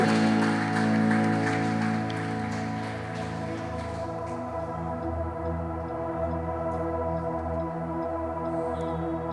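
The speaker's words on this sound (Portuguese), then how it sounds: "aplauda o nome dele, aplauda o nome dele" A church congregation applauds over a sustained chord from instruments, a dense, rain-like patter of many hands that is strongest at first and then thins out while the music rings on.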